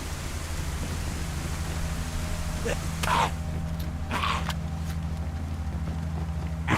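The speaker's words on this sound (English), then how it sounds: "Because of the rain and the music, I cannot hear him running after me" Rain falls in a video game as a dense, constant wash of noise beneath sustained background music, with a few brief louder bursts standing out over the downpour.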